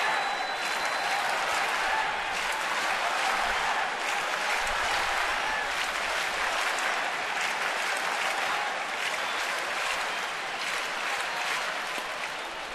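Boisterous baseball crowd at a night game, Atlanta at Washington, roaring and clapping in a steady, dense wash of noise that holds loud throughout with slight swells.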